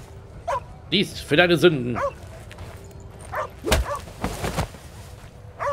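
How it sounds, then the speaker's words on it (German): A dog in The Inquisitor video game barks and yips in short bursts near the start, followed by sharper hits and more yaps, with someone speaking briefly over it. "Jetzt haben wir einen Hund, okay."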